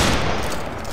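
A massed musket volley fires in Battlegrounds 3 during a multi-clan line battle, a loud, dense roar of overlapping shots filling a short burst.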